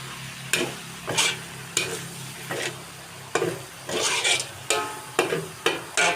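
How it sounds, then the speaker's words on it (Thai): Pork and wide rice noodles are stir-fried in a wok for pad see ew, with a spatula scraping the pan in a steady rhythm of about ten strokes over a constant sizzle. Close and fairly loud, with no talking. "ผัดกันนะให้เขาสลบก่อน"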